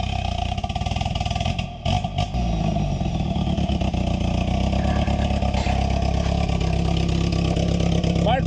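A 4x4 off-road vehicle stuck in a big hole on a farm trail. Its engine runs loud and close with an uneven, rising rumble of revving, broken by a brief dip.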